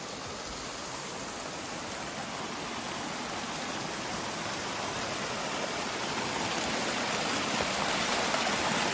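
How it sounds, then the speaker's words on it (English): A flowing stream beside a woodland trail gives a steady, even rush of water that swells slightly louder as it goes on, with no voices. "Nice little part of the stream down here."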